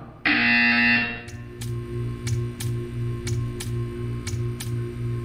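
A loud, harsh electronic buzzer from the video game Portal 2 blares for under a second, followed by a steady series of evenly spaced mechanical ticks over a low, pulsing hum.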